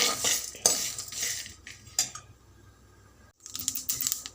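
Coriander seeds are dry-roasted with dried coconut in a kadai and stirred with a metal spoon, giving close, bright scraping and clinking in bursts, a brief quiet pause, then more rapid scraping.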